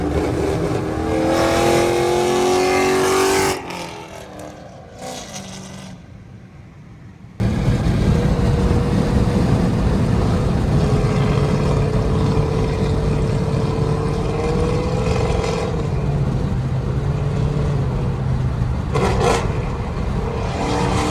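Ford Mustang engine running with a steady loud rumbling idle and a few rises in revs, briefly muffled partway through, then returning close and strong with no speech.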